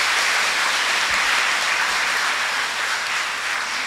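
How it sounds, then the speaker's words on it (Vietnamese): A church congregation gives loud, sustained applause during a Confirmation Mass and parish anniversary celebration, a thick continuous roar of clapping throughout. "Chúng con hãy cảm ơn cha xứ và mọi người bằng một tràng pháo tay thật nồng nhiệt."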